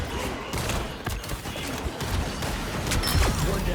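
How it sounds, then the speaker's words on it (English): Gunfire in the Marvel Rivals video game, a dense continuous rattle of shots and impacts blending with game effects and ambience throughout, fairly loud and steady. "What, you're shooting at the wall."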